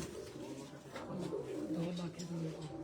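A pigeon coos in soft, repeated low warbling phrases, close by, while people talk over it.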